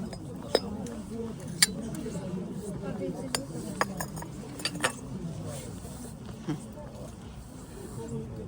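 Glass items clink sharply and sporadically at an outdoor flea market, a scatter of bright ticks and taps over a steady murmur of crowd chatter and distant voices.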